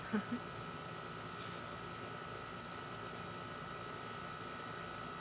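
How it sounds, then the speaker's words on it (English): An air conditioner runs nearby with a steady, constant hum and hiss that holds unchanged throughout, with no voices over it. "this stupid freaking air conditioner."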